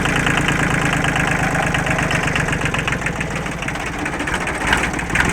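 A Kubota engine, not yet warmed up, runs steadily at close range with a loud, even diesel chug and rattle that holds without a break.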